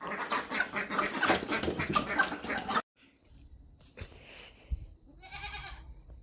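A goat bleats close by on a farm, with a loud, rough burst of noise at first, then quieter, wavering calls over a subdued background.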